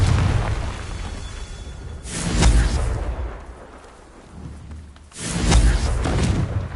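A Confringo blasting spell in a Harry Potter video game detonates twice, each a deep, loud booming explosion with a rumbling tail, separated by a few seconds of quieter ambience.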